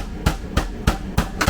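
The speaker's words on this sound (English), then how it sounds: "I've got my chicken, I've got it between cling film, and I'm just going to use my rolling pin" Rolling pin pounding chicken breast wrapped in cling film on a kitchen counter, five evenly spaced heavy thuds roughly a third of a second apart, close and loud with no talking.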